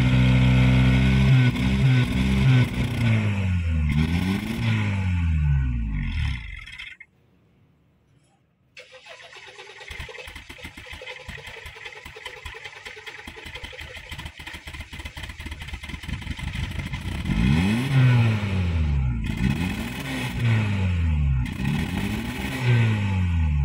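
A Honda Mobilio engine, its throttle body freshly cleaned, revs hard in repeated rising and falling sweeps, pauses in near silence, then idles roughly before revving strongly again, loud and close.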